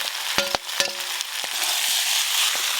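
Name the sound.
frying potatoes and prawns with spices in a pan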